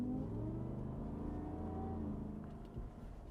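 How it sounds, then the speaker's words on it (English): A 2024 Ford F-150 Shelby Off-Road's 5-liter supercharged Coyote V8 revs in a low, soft pull with a faint whine, heard at a distance and tapering off toward the end. "that supercharger, it whines"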